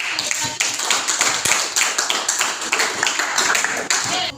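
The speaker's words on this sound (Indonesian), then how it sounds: "berikan tepuk tangan yang luar biasa" Classroom audience clapping during a biology lesson, a busy patter of many hands running steadily from start to finish at moderate loudness, close by, with faint voices mixed in.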